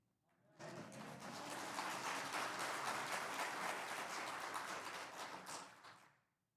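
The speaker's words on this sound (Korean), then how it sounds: "시작도 하기 전에 박수를 치니까" A church congregation at Samyang Central Church applauds before the sermon: dense, even clapping from many hands rises quickly, holds steady for several seconds, then fades out.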